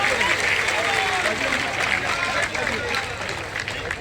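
Large crowd at a BJP workers' conference in Semaria applauding loudly and steadily for party national general secretary Kailash Vijayvargiya, a dense, continuous wash of clapping with crowd noise throughout.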